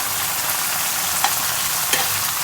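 A masala paste of black mustard and poppy seed is stir-fried in a pan, giving a loud, dense, steady sizzle with a couple of faint scraping taps from the spoon.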